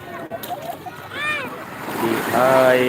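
Waves at Ancol beach in Jakarta wash steadily in the background, a broad rushing noise under children's voices and chatter nearby.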